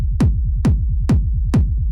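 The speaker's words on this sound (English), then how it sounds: "the last thing I've got on here is this drum bus, which sounds like this" A hard rave techno kick drum pushed through a drum bus effect, four heavy, booming hits evenly spaced over a continuous distorted low rumble, loud and alone.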